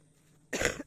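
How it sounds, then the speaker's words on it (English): A single harsh, wet cough bursts out close to the mic after a quiet stretch at a primitive campground, from someone still recovering from bilateral pneumonia. "Sorry about the coughing."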